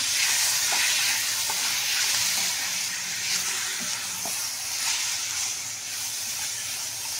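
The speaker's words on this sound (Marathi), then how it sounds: "आपण त्याच्यात ही भाजी टाकूया आणि चांगली कांद्यात मिक्स करून घेऊया" A chopped vegetable frying with softened onions in a pan, a loud, dense, steady sizzle and hiss with a few soft clicks of stirring, heard close and without speech.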